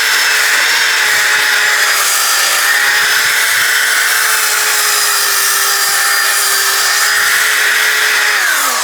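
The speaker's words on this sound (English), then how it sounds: "I'm just using my orbital sander on it" An orbital sander cleans rear brake parts on a Ford F150, running as a loud, steady, high whine with no break for the whole stretch.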